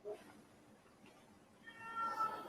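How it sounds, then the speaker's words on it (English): A house cat lets out a short, vocal meow near the end, a clear tonal call over quiet room background. "Sometimes the cat has really vocal thoughts."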